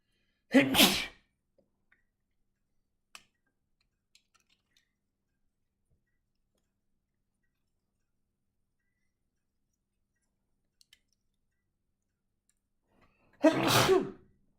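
Two loud, close sneezes, one near the start and one near the end, separated by quiet with a few faint clicks and taps.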